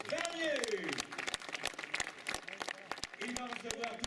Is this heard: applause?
yes